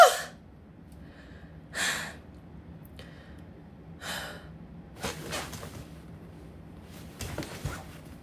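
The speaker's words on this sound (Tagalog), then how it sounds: "Hingal ako!" Heavy, out-of-breath panting comes in a few separate bursts of sharp gasps and breaths, close to the microphone, with quiet pauses between them and no clear speech.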